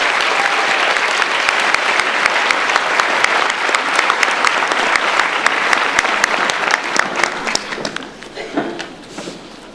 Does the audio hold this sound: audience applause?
yes